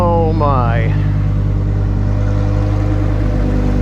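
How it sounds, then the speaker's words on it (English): Lamborghini engine given a quick rev, a loud close roar with a rising pitch sweep at the start settling into a deep steady rumble, with a voice briefly over the beginning. "Get in there and give it a quick rev."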